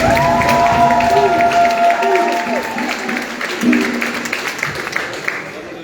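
An audience at a congress closing meeting applauds the organizing team, loud sustained clapping mixed with crowd noise and some cheering, with voices heard over it, gradually thinning toward the end.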